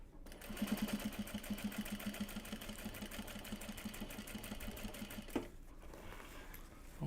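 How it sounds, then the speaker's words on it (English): Sewing machine winds a bobbin with a fast, even mechanical whirring and rhythmic ticking, close and steady for several seconds. A short clunk follows, and then the machine falls quiet. "White bobbin is nearly done. It's done enough that once we finish this, I'm going to go in and swap it to the black bobbin"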